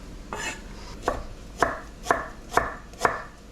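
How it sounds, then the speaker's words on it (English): A knife roughly chops garlic on a cutting board in six sharp, evenly spaced thuds, close and clear with no talking. "Another very rough chop on this garlic."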